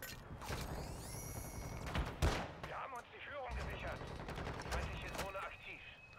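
Gunfire from Call of Duty Warzone 2.0, with pistols in use: repeated sharp shots and bursts, one loud crack near the middle, over a busy battle background while voices talk throughout.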